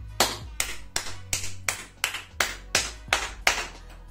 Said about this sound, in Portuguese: vai uma salva de palmas para você aí